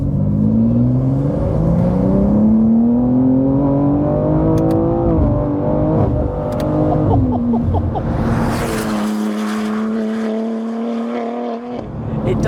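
A 610 hp BMW G87 M2 with its S58 engine accelerates hard, a loud, close engine note climbing steadily through the gears, with brief shift breaks and a rasping burst near the end.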